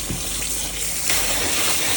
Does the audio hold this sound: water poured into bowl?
yes